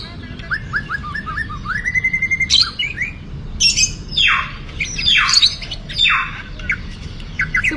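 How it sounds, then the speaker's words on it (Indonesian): White-rumped shama (murai batu) songbirds chirping and squawking close by, with rising whistled phrases, sharp repeated calls and bursts of song over a steady background hum. "Semua burung selain dia udah mulai nekek."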